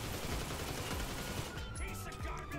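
Shotgun blasts fired in the video game GTA 5, a dense run of loud, overlapping shots.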